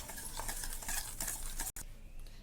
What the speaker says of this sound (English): At last we will add all the powder sugar in it and mix it with the whisker well.